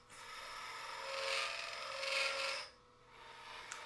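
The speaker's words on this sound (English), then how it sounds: "I'm going to go back with that same square nose scraper and clean up the sides" A square nose scraper cuts wood on a lathe while turning a square lidded box, giving a soft, continuous rasping hiss that swells twice and then fades, faint and close, with no talking.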